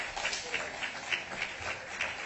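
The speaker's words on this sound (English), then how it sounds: "Keep clapping" Audience clapping at a university competition grand finale, a continuous moderately loud patter of many hands with gentle swells, heard from within the hall.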